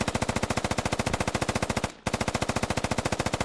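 An MRAP's vehicle-mounted machine gun fires long, rapid, evenly spaced bursts in a military video game, loud and close, with one brief pause mid-way before the firing resumes.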